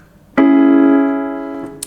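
One minor triad sounds clearly on piano and sustains, gradually decaying, with a soft click just before it ends.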